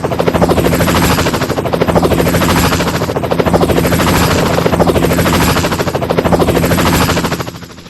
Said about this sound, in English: Here, the helicopter sound is louder and closer too, right?